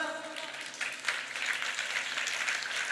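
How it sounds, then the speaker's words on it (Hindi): Audience applause at a devotional bhajan gathering, a dense, even patter of many hands clapping, soft and somewhat distant, with voices faintly audible underneath. "तालियां किस बात पे बजा रहे हो?"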